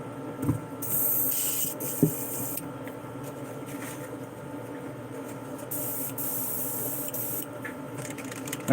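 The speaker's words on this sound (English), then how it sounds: "Alright, so all I'm going to do with this is just do a really light spray." An airbrush spraying paint lightly at turned-down air pressure onto a smallmouth bass model, soft hissing bursts that start and stop several times over a faint steady background hum, with no voices.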